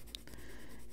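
Caran d'Ache pencil softly shading and blending on paper, a faint steady scratchy rub with light strokes, close and quiet, no voices.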